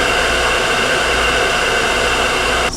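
A hair dryer blows on hair while it is being styled, giving a loud, close, steady rush of air that stays level throughout and cuts off abruptly at the very end, with no talk.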